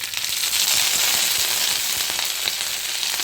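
Oil sizzles and crackles steadily in a hot pan, with scattered sharp pops from mustard seeds bursting throughout as dried red chilies fry.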